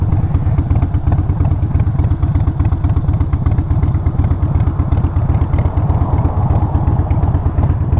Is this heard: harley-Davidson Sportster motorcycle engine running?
yes